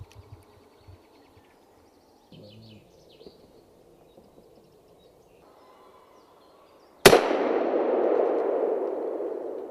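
A single loud gunshot fired at a bird cracks out sharply near the end, its blast decaying into a long rumbling tail, after quiet outdoor ambience with faint bird calls and rustling.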